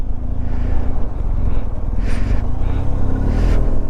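BMW R 1250 GSA adventure motorcycle ridden on a high mountain road near Pangong Tso, with a loud, close engine drone and rumbling wind noise running steadily throughout.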